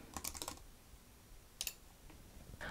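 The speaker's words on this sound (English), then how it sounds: "if you start typing the name of the page," Quick bursts of computer keyboard typing while entering a page name, a rapid flurry of close key clicks at the start, another short burst midway and a few more keystrokes at the end over a faint background hum.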